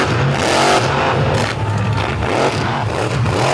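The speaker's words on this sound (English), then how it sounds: "Hear that incredible raspy thump of that big block Chevrolet in the back of Sinistar." The big block Chevrolet engine of a monster truck roars at an all-star finals event, loud and close, with a raspy thumping rev that holds steady through the whole clip.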